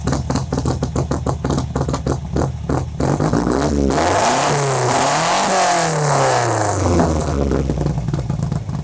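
A 1975 Toyota Corolla, originally a 1.6 now fitted with a 1.8 engine, at a cars and coffee meet: a choppy close-up idle gives way to loud, sweeping revs that climb and fall several times.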